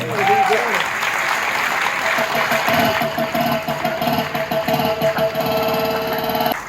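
Applause from an audience at a Konkan folk-art event honouring a guest, a steady broadband clatter of clapping running throughout with a musical tone and talk mixed in underneath.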